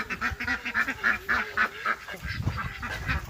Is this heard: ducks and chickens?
yes